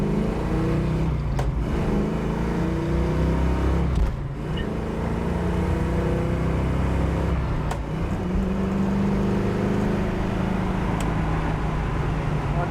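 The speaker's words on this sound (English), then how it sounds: "Car runs through the gears nice." A 1969 Chevrolet Camaro SS drives at speed and accelerates through its gears, a loud, steady engine roar with brief dips at each shift, heard from inside the car with faint talk underneath.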